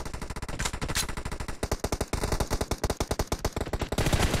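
Rapid automatic gunfire from PUBG Mobile, a loud dense burst of closely spaced shots followed by a steady string of evenly paced rounds, heard alone with no talk.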